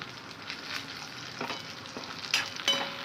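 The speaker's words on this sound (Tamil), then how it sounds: "நல்லா வெங்காயம் பூண்டு நல்லா வதங்கிச்சு" Small onions and garlic sautéing in a pan for a greens kuzhambu, a steady close sizzle with stirring scrapes and a few sharper clicks of a spoon against the pan.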